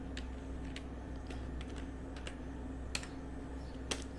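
Typing a short word on a computer keyboard while working in Excel: a handful of sharp, separate key clicks with uneven spacing, close to the microphone over a quiet steady hum.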